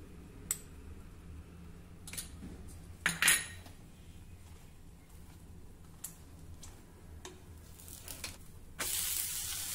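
Oil is brushed onto a dhirde cooking in a pan on a gas flame, giving soft scraping and clinking of a spoon against metal over a faint sizzle, with a brief louder clatter and a rising hiss near the end.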